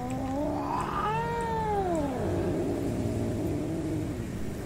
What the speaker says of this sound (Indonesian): Ada suara ngeong-ngeong.